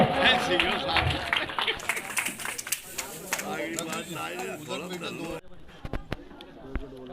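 Crowd clapping in welcome at a village panchayat development-tour gathering, a dense run of hand claps over babble and a loud amplified voice, thinning to a few sharp scattered claps near the end.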